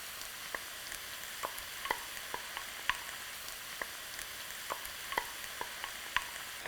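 Tomatoes and potatoes fry in a pan for Filipino-style corned beef hash, giving a steady close sizzle punctuated by regular sharp clinks and scrapes of stirring.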